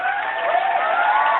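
Audience applause at a sports talk show, a dense steady clapping wash, brief and fairly loud, with no one speaking over it.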